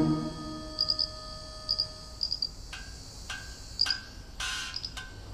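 Male Mantella frogs give short, high, chirping clicks in quick bursts, insect-like and fairly faint, repeating irregularly over a soft background hum.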